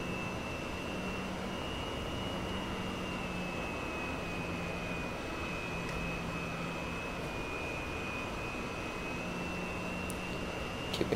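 A Sukhoi Su-27 jet in the DCS flight simulator taxiing on the ground with nose wheel steering, a steady, unbroken engine roar with a high turbine whine holding constant throughout, no voices.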